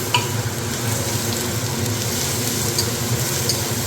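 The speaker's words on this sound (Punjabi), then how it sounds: "ਇਹਨਾਂ ਨੂੰ ਆਪਾਂ ਥੋੜਾ ਜਿਹਾ ਭੁੰਨ ਲੈਣਾ" Carrots frying in a pan with garlic and ginger for a quick carrot pickle, a dense continuous sizzle that holds steady and fairly loud throughout, with no speech.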